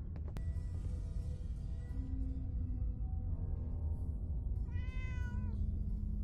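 A black cat named Blackie meows in Fallout 4, one drawn-out mew rising and falling near the end over a steady low game-ambience hum, with a brief tone earlier.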